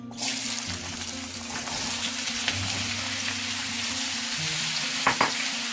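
Elephant foot yam pieces fry in about two spoons of hot oil, giving a steady close broadband sizzle with faint stirring and one or two scrapes near the end and no talk.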